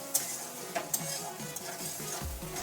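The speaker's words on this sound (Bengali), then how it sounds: "এখন ওটা দিয়ে একটু ভেজে নিচ্ছি, একটু লাল লাল করে ভেজে নেবো।" Chopped onion frying in a pan for a Bengali egg and ridge gourd curry, a steady close sizzle with a few sharp clinks and scrapes of a spatula stirring, no voices.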